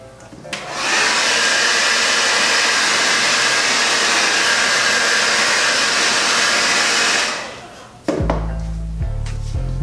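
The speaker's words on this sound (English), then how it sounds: "heat it up with the dryer or the heat gun" A heat gun or hair dryer blows hot air in a loud, steady roar for about seven seconds while skimboard traction pads are applied, then cuts off, leaving a low hum and a few clunks.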